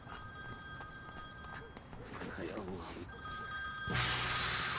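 A telephone bell rings in repeated steady bursts, moderately close, with muffled voices talking over part of it and a louder noisy burst near the end.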